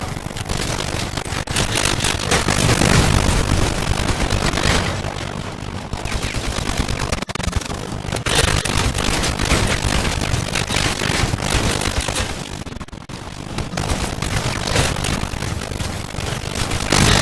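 Gunfire in the vehicle combat game Crossout, a dense, continuous barrage of shots and engine roar with no breaks, loud and close throughout.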